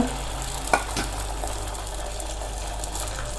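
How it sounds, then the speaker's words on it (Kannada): Broccoli omelette mixture hits a hot oiled pan with a short splash near the start, settling into a steady, moderately loud sizzle that runs on alone. "ಈಗ ಹಂಚಿನ ಮೇಲೆ ಒಂದು ಸ್ವಲ್ಪ ಎಣ್ಣೆ ಹಾಕ್ಕೊಂಡು ಸ್ಪ್ರೆಡ್ ಮಾಡ್ಕೊಳ್ಳೋಣ. ಬಿಸಿಯಾಗಿದೆ, ಹಾಕ್ಕೊಳ್ಳೋಣ ಆಮ್ಲೆಟ್."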